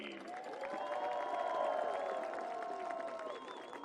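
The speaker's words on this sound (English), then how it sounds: "how about one more round of applause for our all-tournament team?" Stadium crowd at the 2019 NCAA Division III men's soccer championship applauding the all-tournament team, a steady, sustained wash of clapping and cheering that holds for the whole stretch and sounds somewhat distant.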